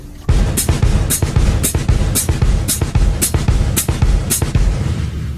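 A kick drum and hi-hat alternate in a fast, steady samba foot pattern at full tempo, with crisp hi-hat chicks on a regular pulse over the even low thumps, played close and loud with no talking.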